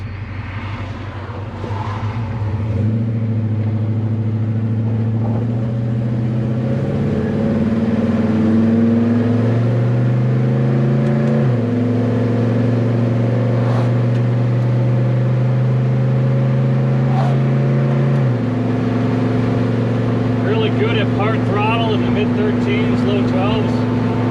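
A 1970 Chevelle with a Holley Double Pumper carburetor on a test drive, loud steady engine drone rising through several gear shifts from inside the car, with a voice heard at moments.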